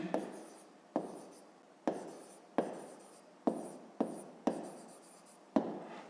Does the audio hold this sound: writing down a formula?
yes